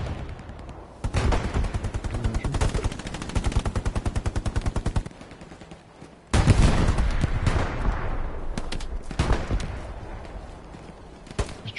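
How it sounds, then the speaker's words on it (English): Gunfire in the video game Hell Let Loose, long bursts of rapid automatic shots in steady rhythm, a brief lull, then heavier overlapping fire with single cracks from several guns, loud and near. "I'm taking shots from the northwest."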